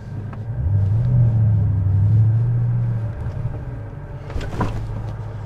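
A Bentley Continental GT S convertible launching: a deep engine rumble swells as the car pulls away, holds steady for a couple of seconds, then fades, followed by a brief sharp burst of exhaust noise at a distance.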